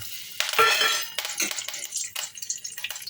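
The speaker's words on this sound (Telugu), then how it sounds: "కరివేపాకు వేసుకొని వేయించుకుందాం" Curry leaves hit hot oil in a pan with a sharp crackling burst, then settle into softer, uneven spitting and stirring noises, close and fairly quiet.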